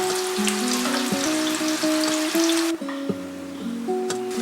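Tofu fries in a wok of oil heated until quite hot. A steady, close sizzle and crackle runs throughout, with occasional light scraping and a sudden drop in hiss partway through, over quiet background music.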